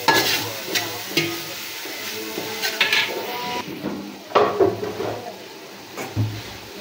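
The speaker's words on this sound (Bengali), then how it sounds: "যে দেখুন আমার মাংস ভুনা করার জন্য মশলাটা আমি কষিয়ে নিচ্ছি।" Spice masala for beef khichuri frying and being stirred in a pan, with repeated scraping strokes over a steady sizzle, close and fairly loud, no talk.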